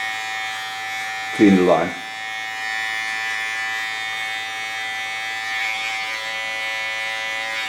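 Electric hair clipper buzzing steadily while trimming a short platinum cut at the neckline, a constant whining hum throughout with a louder burst near the start, under a person's brief speech.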